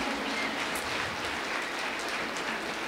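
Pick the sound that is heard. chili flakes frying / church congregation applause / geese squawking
church congregation applause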